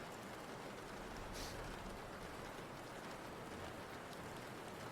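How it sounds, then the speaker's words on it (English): Steady rain plays as a chill background ambience on a livestream, a dense, even hiss of falling drops that holds constant throughout at low volume with no voices. "the rain sound is background sound"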